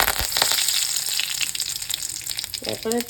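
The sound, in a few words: curry leaves frying in coconut oil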